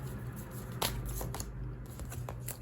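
Tarot cards handled and shuffled at a reading, giving soft papery riffles and slides with a few sharper flicks over a low steady hum, close and fairly quiet.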